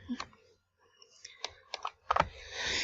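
A handful of crisp, close computer mouse clicks, spaced irregularly with short pauses between them, in a quiet room.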